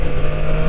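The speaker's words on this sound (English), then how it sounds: "It is very smooth when the engine is under acceleration." A Triumph Street Triple Moto2 motorcycle engine holds a steady, smooth, loud hum under acceleration, with a continuous droning tone and no breaks.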